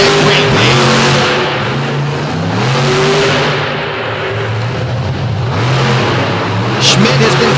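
The Redneck Rampage monster truck revs loud and close at a show, its engine rising and falling in long surges while an announcer's voice carries over the roar.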